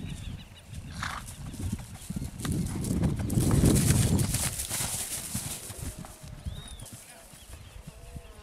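A Pampa horse for sale, with a good rein, is ridden in a short stop exercise; the hoofbeats come in a rhythmic clip-clop that swells to a loud peak mid-clip and then fades, with a voice speaking briefly.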